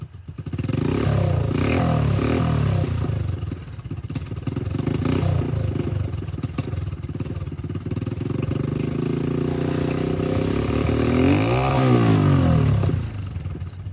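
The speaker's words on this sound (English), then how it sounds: "You can hear the turbo turning over the motor at this point." A turbocharged motorcycle engine runs loud and close while standing still, revving repeatedly with a rough, clattering tone and a rising turbo whine near the end.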